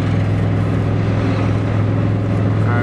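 Ford Turbo Coupe engine under light throttle while driving in third gear, a loud, steady low drone with constant road and cabin noise throughout.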